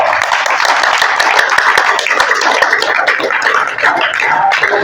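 Audience at a religious sermon clapping steadily, a dense, even patter of many hands that holds at a loud, constant level throughout.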